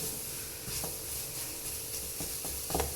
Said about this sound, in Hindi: ये साथ साथ पकता जाएगा और पैन को छोड़ने लग गया है ये। तो बस इसको मिक्स कर देंगे